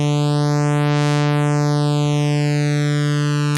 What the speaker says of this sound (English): There's kind of a phasing sound.